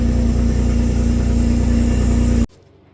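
A Daihatsu Mira's small engine runs at a steady, loud idle with a strong low hum, then cuts off abruptly near the end, leaving near silence.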